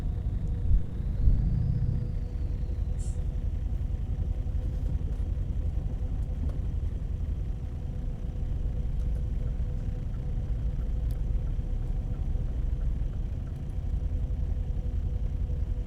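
Low truck engine rumble from Euro Truck Simulator 2, a steady droning hum that holds at one even loudness throughout with a brief swell near the start.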